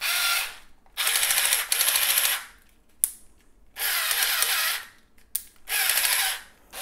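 A powered screwdriver or drill driving screws into a monitor stand, heard as several loud ratcheting whirs in short bursts separated by brief pauses and small clicks, close by.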